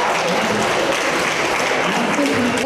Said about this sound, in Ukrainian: Оплесками реагує на ухвалу депутатів частина працівників районної лікарні, які перебувають в залі.